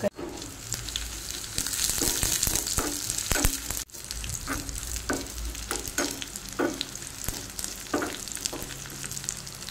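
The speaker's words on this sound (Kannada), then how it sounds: "ಒಗ್ಗರಣೆಗೆ ಎಣ್ಣೆಯನ್ನು ಹಾಕ್ತಾ ಇದ್ದೇನೆ" Garlic, dried red chillies and curry leaves sizzle steadily in hot oil for a tempering, a constant crackling hiss punctuated by occasional stirring clanks and scrapes, close up with no voices.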